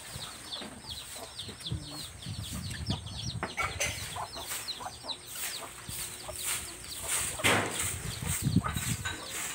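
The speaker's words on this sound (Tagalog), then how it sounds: "Mga native na manok." Native chickens cluck and chatter steadily in a farmyard, several birds at once, with occasional bursts of louder calls over a constant outdoor background.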